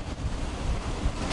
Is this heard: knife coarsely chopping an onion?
no